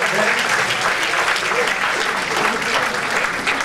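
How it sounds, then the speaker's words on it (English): An audience applauds after a Cebu Pacific airline safety dance demonstration, with loud, dense, continuous clapping that fills the room from start to finish. "How about a round of applause for that?"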